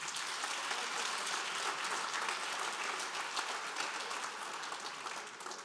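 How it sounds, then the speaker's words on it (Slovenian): Crowd at a school graduation prom dance in Ljubljana applauds steadily with a dense wash of clapping that stays even for several seconds, somewhat distant and soft, and tapers slightly at the end. "Tako da kar en aplavz"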